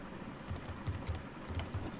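Keys clatter on a computer keyboard in a quick, close run of soft typing taps with no speech.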